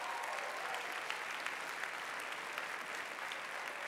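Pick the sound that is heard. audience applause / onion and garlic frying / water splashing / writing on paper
audience applause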